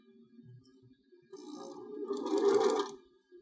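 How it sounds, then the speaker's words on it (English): A sewing machine starts stitching a quilted trivet, a short burst of motor whir and needle clatter rising over about two seconds after faint handling sounds, then stopping. "So let's sew this."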